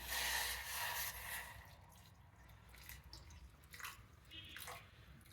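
Water splashes and trickles into a pot holding half a cup of finely chopped jaggery, a steady close pour with soft dripping that tapers off.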